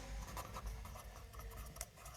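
Marker or chalk writing a sentence on a board, quiet close scratching and tapping strokes in short bursts, no speech.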